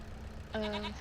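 A single short sheep bleat from the video game Farming Simulator 25 sounds faintly over a low background hum.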